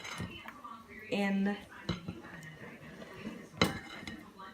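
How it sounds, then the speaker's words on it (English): A spatula folds eggs into a batter mixture in a bowl for bread pudding, giving soft scraping and clinking against the bowl in short bursts, with a person talking over it. "You're gonna want to take a spatula or something to mix it with, and kind of fold"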